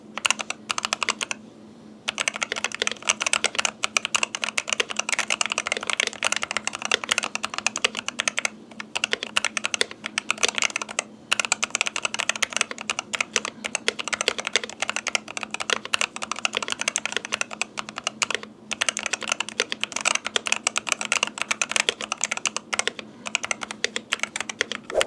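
Fast, continuous clacking of keys on a TMKB T68-C HE mechanical gaming keyboard, dense bursts of typing with brief pauses, close and crisp, no talk.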